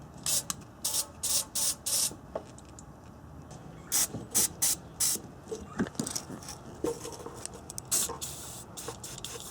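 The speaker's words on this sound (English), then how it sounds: "Just spray it right on that peg right there." Silicone spray hisses onto the rubber exhaust hanger peg of a 1994–97 Honda Accord during muffler replacement, coming in several short close bursts with quiet gaps and faint rattling in between.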